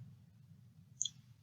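A single sharp computer mouse click lands near the end, over a steady low electrical hum, while navigating a Quizlet vocabulary lesson.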